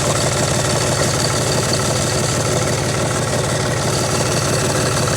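A car engine idles steadily nearby while the alternator is checked, a loud continuous rumbling drone with an even low throb and no change in pitch throughout.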